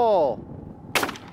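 A single sharp shotgun blast at a trap shooting range, loud and close, following a brief tonal call at the start and ringing off quickly.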